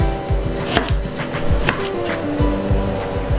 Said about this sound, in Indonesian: Nah, sekarang tinggal kita potong-potong aja seperti ini